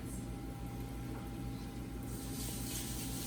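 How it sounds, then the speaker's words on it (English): Tap water runs steadily into a sink in a home kitchen while hands are rinsed, a soft continuous splashing hiss that grows a little brighter toward the end. "And again, I'm gonna wash my hands."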